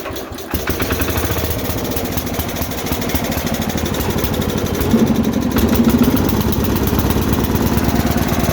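A garden tractor engine that sat unused for two years fires up after a pull start and settles into a loud, steady idle, with a rapid chugging rhythm and a brief rise in pitch midway.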